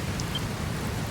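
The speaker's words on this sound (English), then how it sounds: "What do you mean, where'd this rain come from?" Rain in Dragon Quest Builders 2, a steady close hiss of falling drops with no breaks, heard alone without talk.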